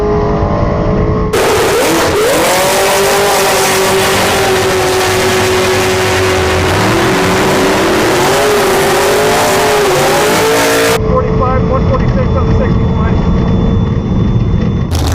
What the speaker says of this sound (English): This is a drag race.